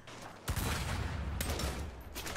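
Rapid gunfire erupts in the Saints Row video game on PS5, a dense crackling fusillade of shots with sharp bursts over a low booming rumble.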